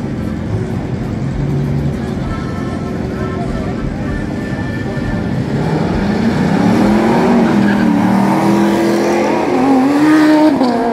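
Street race cars, including a Camaro, roar loudly as they launch and accelerate hard side by side, engines climbing in pitch over a dense rumble, with a voice talking over the noise.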